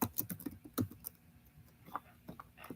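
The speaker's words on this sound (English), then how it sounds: "hold up, I'm typing the chat." Quick, irregular clicks of fingers typing on a computer keyboard, close and fairly quiet, in short bursts with brief pauses.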